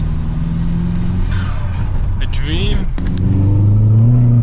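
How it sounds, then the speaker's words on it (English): Engine of a modified new hot hatch rumbles steadily from inside the cabin during a street cruise, a low continuous drone that swells slightly near the end, with someone talking over it. "this car sounds too sick"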